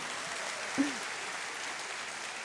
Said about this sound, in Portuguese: Se é para Jesus, você vai dar um aplauso melhor